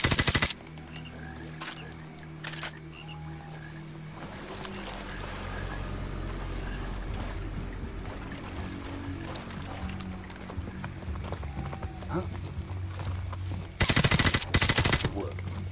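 Gunfire in the shooter Call of Duty Warzone, with loud bursts of automatic fire at the start and end around steady rumbling background noise, and a voice speaking briefly.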